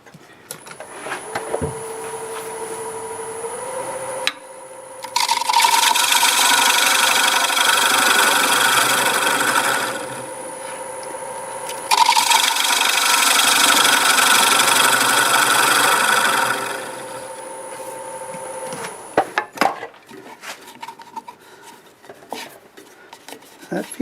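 A wood lathe hums steadily as a gouge turns black walnut. Two long stretches of loud, broadband cutting noise rise over the motor whine, separated by a quieter gap, with faint talking near the end.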